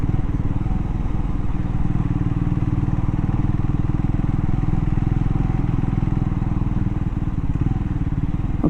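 A Scrambler 400X motorcycle rides along Cheshire back lanes, its engine a loud, steady, close thrum with a rapid even pulse that holds at constant pace throughout, with faint wind rush above.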